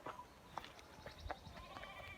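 Sheep bleat on a hillside, several short wavering calls spaced irregularly at moderate distance over faint outdoor background noise.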